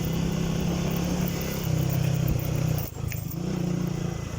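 A motorcycle rides along a road with a steady engine drone and wind rumble throughout, loud and close, with a brief dip near the end before the engine noise resumes.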